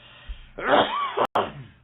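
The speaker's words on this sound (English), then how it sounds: "That's a smoking cough. Smoker's cough." A single rough, hacking smoker's cough bursts out close by, followed by a brief wheezy tail after a short break.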